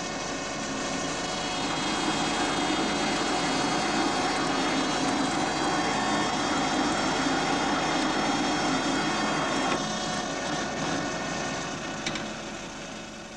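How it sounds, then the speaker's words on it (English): A lathe turning work against a dead center without grease, a steady loud machine whine and drone holding at an even level for many seconds, dipping slightly at the end, with no voices. "Turning against a dead center and using no grease."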